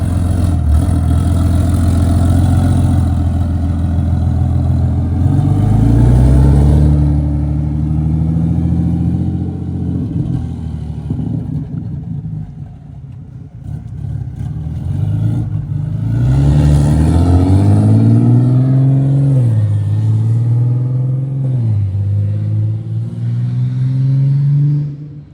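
A BMW-engined MK5 Supra revs and accelerates hard during a ride, the engine note climbing through gears, dropping briefly, then pulling loud again from inside the car, with no talking.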